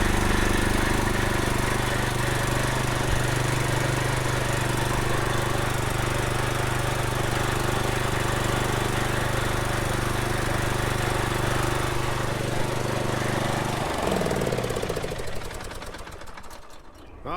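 A riding lawn mower engine runs at a steady, loud, close idle after a fuel solenoid repair, with a constant rumble that winds down and cuts out near the end.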